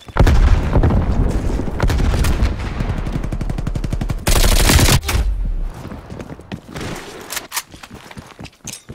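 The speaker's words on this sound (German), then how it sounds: "Werfe Granate!" Rapid automatic gunfire and booming blasts from a grenade in Call of Duty Cold War multiplayer, loud and dense at first, then thinning to scattered shots.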